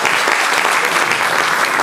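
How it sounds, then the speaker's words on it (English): An audience at a Pakistan Independence Day event in Dundee applauds, a loud, dense and continuous burst of many people clapping together. "Is that clap enough for your representation?"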